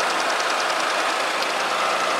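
Petrol engine of a 1.6 SR car running steadily, a continuous mid-toned mechanical drone with a faint rapid tick, close and even throughout with no talk.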